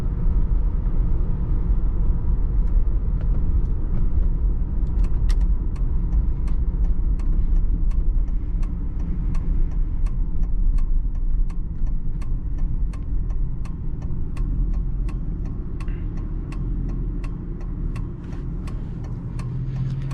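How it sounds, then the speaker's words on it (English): A 1997 Lincoln Town Car Cartier, heard from inside, speeds up on the road with a deep, steady engine rumble that stays loud throughout, along with faint ticking and clicks. "I'll step on the gas and let you guys see the performance of this town car"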